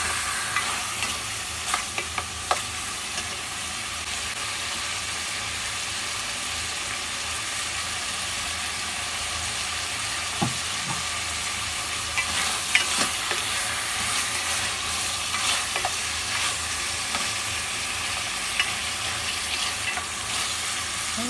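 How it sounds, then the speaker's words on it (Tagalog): Pork spareribs sauté in a pan for mechado, giving off a loud, continuous sizzle that holds steady for over twenty seconds, with occasional small pops and clicks and no talking. "Gisa ko lang po ng konti."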